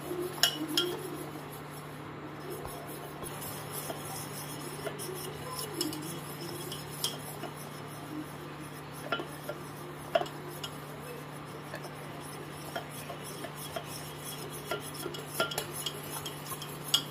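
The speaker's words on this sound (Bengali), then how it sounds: "অনবরত নাড়তে হবে, নিচে লেগে না যায়" A spoon stirs a caramel-flavoured ice cream mixture in a pot, with soft, steady scraping and light clinks against the metal. The sound is faint and close, over a low background hum, and there is no talking.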